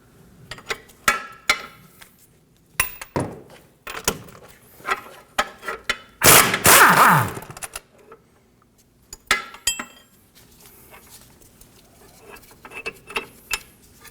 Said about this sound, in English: The lower strut bolt gets in the way of removing the upper caliper bracket bolt, so we're going to remove it using a 19mm socket and wrench